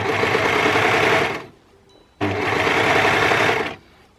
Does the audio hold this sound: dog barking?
no